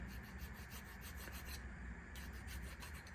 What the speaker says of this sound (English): This could actually take a lot more filing than I thought.